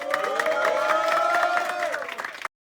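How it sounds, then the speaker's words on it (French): Crowd applause and cheering for kickboxing fighters at an event, lively clapping with raised voices and a loud tonal shout over it, cutting off abruptly after about two and a half seconds. "On applaudit les gars, s'il vous plaît."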